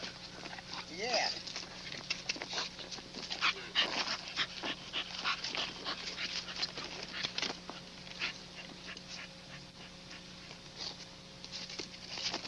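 Dogs in a kennel yard bark, whine and whimper over a busy outdoor background, with the barking fairly close and continuous while a person talks through it.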